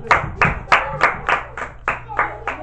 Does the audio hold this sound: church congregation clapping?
yes